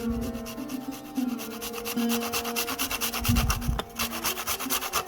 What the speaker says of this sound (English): Grate about 1 to 2 teaspoons of nutmeg.